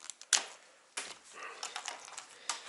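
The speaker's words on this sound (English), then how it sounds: "so we're just going to cut it right off." Wire snipped off a Ski-Doo XP snowmobile tail light: a few sharp, close clicks and cuts, the loudest near the start, followed by light handling rustles.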